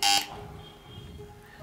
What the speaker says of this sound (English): who pressed the buzzer first?